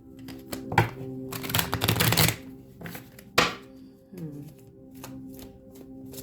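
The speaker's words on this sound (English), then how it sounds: "Let me go back and shuffle these again." Tarot cards are shuffled in a few quick riffles close up, with soft taps and handling sounds between bursts.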